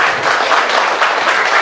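A lecture audience at a civic academy in Gangneung gives a loud, dense round of applause, continuous and even from start to finish, close and filling the room.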